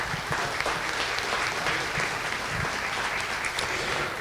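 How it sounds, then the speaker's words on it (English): An audience claps for the mayor and board of aldermen at a town gathering, a sustained, even wash of many hands applauding at middle distance with no talking over it. "If you'll give them a round of applause, please."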